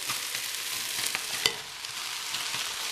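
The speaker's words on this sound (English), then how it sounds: "we're gonna keep it stirring for about 3 or 4 minutes here before we do anything else" Carrots stir-frying in a pan with chili, garlic and ginger give a steady close sizzle, broken by a few sharp clicks and scrapes of stirring.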